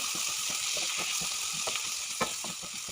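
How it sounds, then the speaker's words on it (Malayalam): Onion, tomato and green chili sautéing in a pan for fish masala, giving a steady close sizzle with soft, irregular stirring clicks and scrapes throughout and no voices. "തക്കാളിയും പച്ചമുളകും കൂടെ ഇട്ടിട്ട് നന്നായിട്ടൊന്ന് വഴറ്റിയെടുക്കുക."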